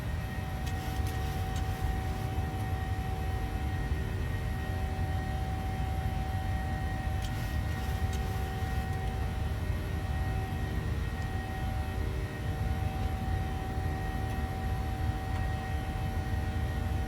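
Steady, continuous jet engine roar of a Boeing 737 climbing after departure in the PMDG flight simulator, a constant broadband drone with a faint tonal whine throughout and no talk.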